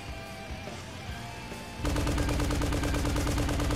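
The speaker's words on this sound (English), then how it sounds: "Vulcan chain gun. Let's try this." Vulcan chain gun firing in the aerial combat video game Dog Fighter, a dense, continuous rapid-fire burst that starts abruptly partway through and stays loud to the end over game music and engine noise.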